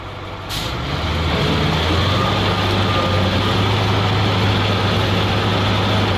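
A ZIL truck reverses off-road with a loud, steady heavy-engine drone and a brief air-brake hiss near the start, the engine note holding constant and close throughout without speech.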